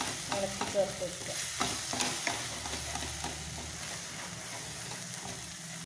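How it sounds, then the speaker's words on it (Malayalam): Okra and egg stir-fry being stirred in a pan: quiet frying sizzle runs underneath, with repeated soft scraping and clinking strokes of the spatula, busier at first and thinning out toward the end. "ഇനിയൊന്ന് അതുപോലെ ഇളക്കി ചേർത്ത് വെക്കുക"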